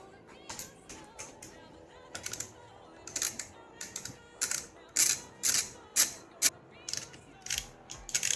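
Tools clicking and ratcheting while the lower triple clamp cover comes off a KTM 1190/1290/1090 Adventure motorcycle during fork seal work; a run of sharp, close mechanical clicks and snaps in irregular bursts.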